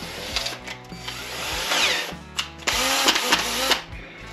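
A power drill with a 13 mm bit bores a hole in a plastic milk bottle, whirring in several uneven bursts with pitch shifting as the motor speeds up and bites, fairly loud and close.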